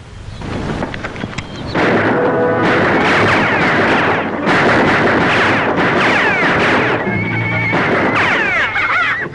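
Several horses neigh and whinny loudly over a dense, continuous roar of gunfire and action noise, with repeated rising and falling cries throughout.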